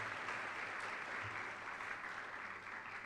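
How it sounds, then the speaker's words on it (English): Applause from a conference audience after a dance performance, a steady wash of many hands clapping at even strength throughout, fairly distant and moderately quiet. "I think she deserves another round of applause."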